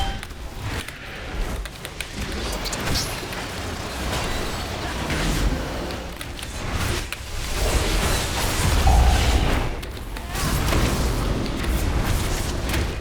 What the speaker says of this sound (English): You see that AoE explosion?